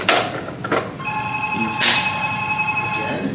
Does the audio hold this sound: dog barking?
no